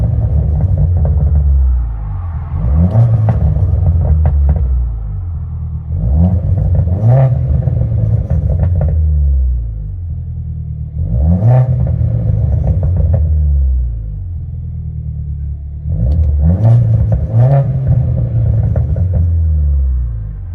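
From inside a 2014 MINI Cooper John Cooper Works with a Black Widow exhaust, four loud, deep rumbling rev cycles swell and drop back to idle in a steady rhythm, with no voices.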